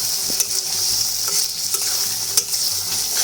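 Chicken frying with roasted ground cumin for Bengali-style chicken bhuna khichuri, a steady bright sizzle with intermittent scraping clicks from stirring, close and continuous with no voices.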